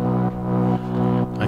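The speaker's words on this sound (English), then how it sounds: "so this is a saturator. Let's see how that sounds." A buzzy, harmonically rich synthesizer chord through a Saturn 2 saturator effect sustains, pulsing in repeated swells about every half second, with no voices.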